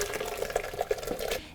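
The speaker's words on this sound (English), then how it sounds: "we're gonna pour this soup" Soup is poured from a pot into a blender over a sink, a short sloshing, gurgling stream of thick liquid with a few heavier glugs, fairly close and with no voices over it.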